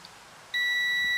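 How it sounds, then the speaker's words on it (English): A Weslo treadmill alarm, set off by its magnetic sensor, starts abruptly and holds a steady high electronic beep tone, loud and close, with no talk over it. "Let's see if the alarm comes on."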